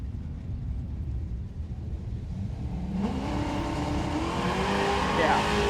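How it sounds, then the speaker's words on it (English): Drag racing Camaro and Mustang with stick shifts on a racetrack: a low engine rumble swells as a car accelerates, with rising revving tones and talk over the noise. "stick shift action on both sides of the racetrack"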